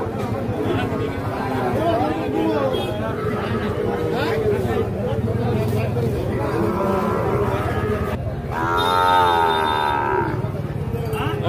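Six-month-old Sahiwal bull calves low and moo repeatedly at a busy Bangladeshi cattle market, the calls rising over constant crowd chatter and hubbub, with one louder drawn-out moo standing out near the end.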